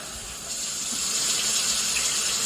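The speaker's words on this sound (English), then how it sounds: "Okay, we're gonna add about 5 cups of water." About five cups of water pour steadily into a cooking pot, a continuous close hissing gush without any break.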